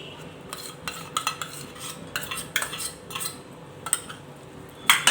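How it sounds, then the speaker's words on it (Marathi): Dry coconut sweet mixture with cream being stirred in, likely in a metal pan, giving scattered light scraping and clinking strokes of a spoon at close range with no talk. "आता हे छान असं मिक्स करून घ्यायचं आहे"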